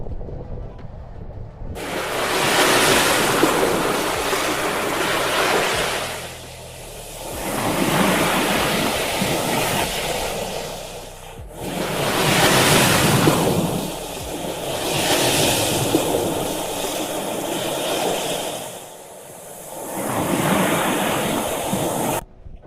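Water washing in at the edge of the Tungabhadra dam backwater, heard as broad, steady surges of wave wash that swell and ebb about every five seconds, loud and close, with some wind on the microphone and no talking.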